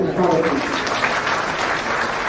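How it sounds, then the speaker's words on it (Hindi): Applause from an audience at a Jan Suraaj party press event where leaders from other parties are joining, steady clapping throughout the short stretch with voices mixed in underneath. "एक बार अपने साथियों से जोरदार संबोधन ताली बजाएं"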